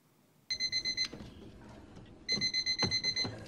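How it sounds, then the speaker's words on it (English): A digital alarm clock tone beeps in two rapid bursts of about eight shrill, evenly spaced pulses each, separated by a short gap of faint background noise. "Do you find your alarm tone boring and uninteresting?"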